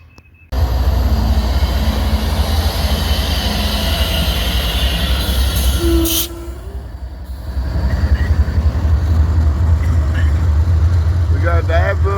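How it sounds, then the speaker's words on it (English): The Abbeville switcher, a freight train hauling grain cars, rumbles past on rusty track in a loud sustained roar with clanking wheels and a brief squeal, dipping for a moment before the heavy rumble returns. "We got the Abbeville switcher coming in, y'all"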